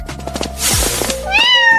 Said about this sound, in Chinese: 殿下，是只野猫子，